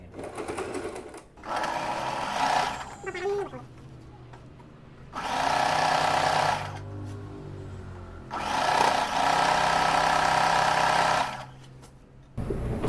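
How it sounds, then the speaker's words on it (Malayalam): Sewing machine stitching straight pants, running in three loud, steady bursts of rapid stitching separated by quieter pauses with handling noises, heard close up. "ഒന്നര ഇഞ്ചിൽ നമുക്കിത് തയ്ക്കാം തയ്ച്ചു വിടുവാണേ"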